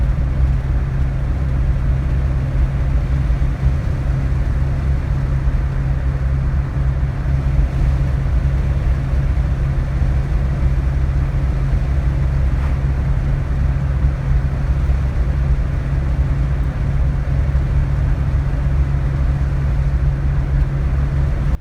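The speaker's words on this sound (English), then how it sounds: "I have the accelerator pressed down quite a bit" A steady, low engine drone with a constant rumble, held at high load throughout with no pauses or voices.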